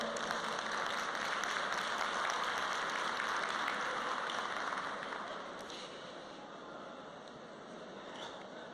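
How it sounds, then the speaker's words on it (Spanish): Dense, even applause from a conference audience fills the room at a steady level, then eases a little toward the end without fully stopping. "Un aplauso para Salvador, por favor."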